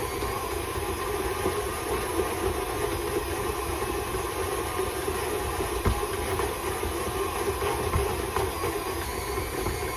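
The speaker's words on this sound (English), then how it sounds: "Let's get that dough going. I love my KitchenAid." A KitchenAid stand mixer kneads pasta dough with a steady, continuous motor hum and a faint rhythmic churn, running alone without speech throughout.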